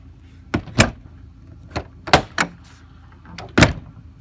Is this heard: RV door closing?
yes